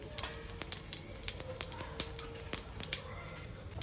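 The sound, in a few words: cumin seeds crackling in hot oil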